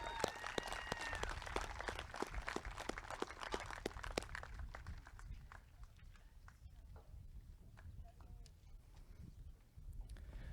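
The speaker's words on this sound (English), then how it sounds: "Another round of applause for Josie." Clapping rises for a graduate at a 2020 North Miami high school graduation ceremony, loud at first and then thinning into scattered claps, with crowd murmur and voices underneath.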